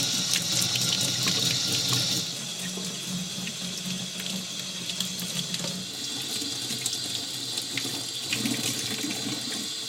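Cold tap water runs steadily into a sink while rusty tools are rinsed, a continuous close splashing stream that softens partway through, with no voices.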